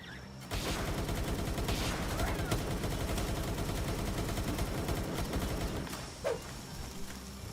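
Rapid continuous gunfire from an early gun in the video game Palworld, a dense sustained burst of shots lasting several seconds, loud and close with little pause.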